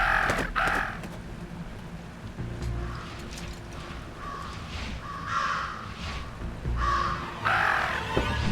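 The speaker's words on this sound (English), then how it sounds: "Talk about a murder of crows." Repeated crow caws from a bird in the video game Jenny LeClue, sounding in several loud bursts over a low game ambience with no talk.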